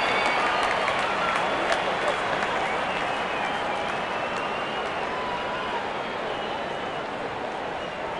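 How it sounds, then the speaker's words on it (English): A packed cricket stadium crowd applauds a well-hit shot during the 2024 UAE vs USA ICC Men's Cricket World Cup League 2 match, a steady roar of clapping and cheering that holds level throughout, with a commentator's voice beneath. "There's such a wonderful crowd in to watch their favorite players."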